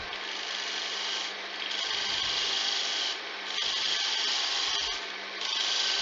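A woodturning gouge cuts a candlestick spinning on a lathe, giving a steady, close rasping hiss that swells and dips slightly as the tool moves along the wood, with no talk.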